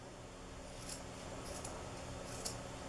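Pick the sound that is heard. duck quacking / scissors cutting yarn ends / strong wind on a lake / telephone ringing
scissors cutting yarn ends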